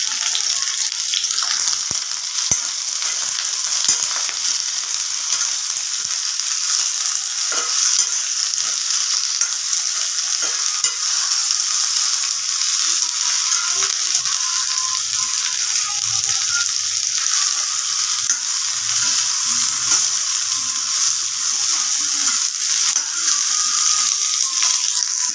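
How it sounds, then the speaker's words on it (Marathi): Sliced okra sizzles and fries steadily in hot oil as it is stirred in a pan, a continuous close hiss with occasional scraping of the spoon, no voices. "आता आपण भेंडीला छान परतून घ्यायचे तेलावरती."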